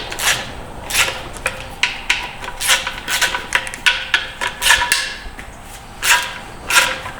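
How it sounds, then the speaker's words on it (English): A ratchet loosening bolts on a Turbo 400 transmission during teardown, giving a run of quick clicking and clattering metal bursts, close up and irregular, without speech. "I like to take them loose with a ratchet"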